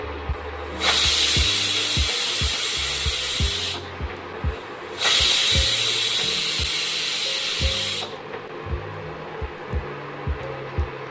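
A pressure cooker on the stove lets out two loud, sustained steam whistles of about three seconds each, with a low simmering rumble and faint rattling in the pauses between them.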